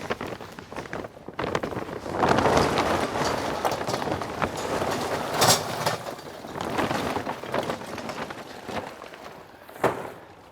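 Lump charcoal pours into the basket of a Komodo Kamado grill, a continuous dry rattling clatter of hard chunks that runs for several seconds, close and fairly loud, with a few sharper knocks near the end.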